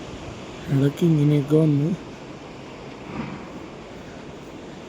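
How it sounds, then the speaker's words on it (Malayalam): A mountain waterfall near Manikaran and Tosh rushes as a steady broadband roar, continuous and fairly loud throughout, with a person speaking briefly over it near the start. "പിന്നെ ഈ വെള്ളച്ചാട്ടം 24/7 ഇത് മാത്രമേ നമുക്ക് കേട്ടോണ്ടിരിക്കുള്ളൂ."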